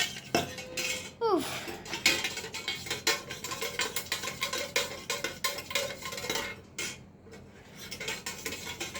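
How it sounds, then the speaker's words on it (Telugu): A spoon stirs lemon juice in a kitchen vessel, producing a steady run of close, bright clinks and scrapes against the container with a few sharper taps, continuing throughout without talk. "ఓకే, ఇంకా మిక్స్ చేస్తాను నేను"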